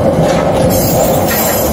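An Urquiza Cargas mixed freight train with container wagons and hoppers rolls past up close in Chajarí, Entre Ríos, Argentina, a loud continuous rumble with rhythmic wheel clatter and faint high squeals.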